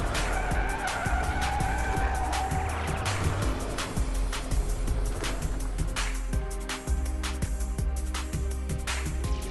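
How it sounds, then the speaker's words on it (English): A car skids after an abrupt steering maneuver, with sustained tire squeal and engine noise, loud and close throughout. "But due to this abrupt steering maneuver, the vehicle starts to skid."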